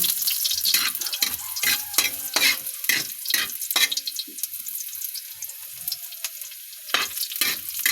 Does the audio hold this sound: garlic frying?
yes